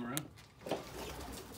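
Pigeons coo softly in a backyard pigeon loft, a few low murmuring calls at moderate distance over faint background hiss.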